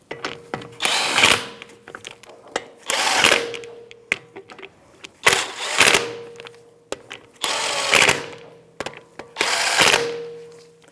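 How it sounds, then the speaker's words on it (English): A power tool with a 17 mm socket snugs the wheel lug nuts on a 2015–2024 Jeep Renegade, five loud whirring bursts each about a second long separated by short pauses and clicks, close and without talking. "Then I'm going to take my 17 millimeter in a crisscross or star pattern. I'm going to just snug them up before I torque them."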